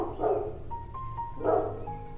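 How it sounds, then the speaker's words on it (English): A small dog barks a few times in the background, with short, moderately quiet yaps spaced across the clip and no talking over them. "That's my little baby girl Gia in the background barking."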